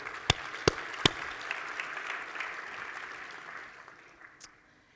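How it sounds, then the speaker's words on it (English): Applause at a conference welcome session swells briefly with a few sharp, close claps at the start, then thins into scattered clapping that fades away toward the end. "Give yourselves a round of applause"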